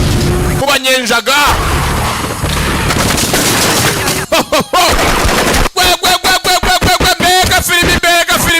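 Film gunfire: loud machine-gun bursts and single shots tear through a dubbed action scene, with rapid rattling volleys toward the end. A voice narrates over the shooting.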